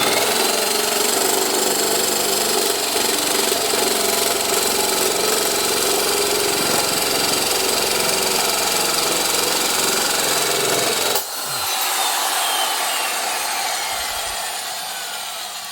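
Makita 10-gauge heavy-duty sheet metal shears grind loudly and continuously through tough stainless steel. The motor's drone drops sharply near the end as the cut finishes, then keeps whirring alone.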